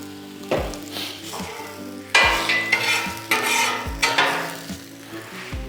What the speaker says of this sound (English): Listen to those onions. We get a little more oil on them.